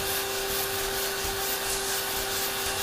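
A sander fitted with 120 grit paper runs steadily against drywall, giving a continuous close, even rubbing hiss with a faint steady hum underneath and no talking.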